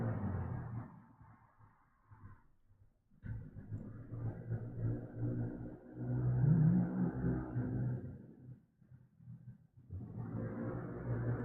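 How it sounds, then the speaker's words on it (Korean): A motorcycle riding around outside at night, its engine rumbling and revving in swells that rise, fade and return over several seconds, heard faint and muffled through walls with no talk. "아니 이 시간에 누가 오토바이를 타고 돌아다니는 거야."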